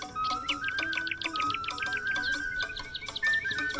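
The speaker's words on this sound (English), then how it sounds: "The parrot heard this and quickly recounted it to Kansari" A parrot gives rapid, repeated high chirps and tweets in quick bursts, close and clear over faint dripping sounds, with no talking.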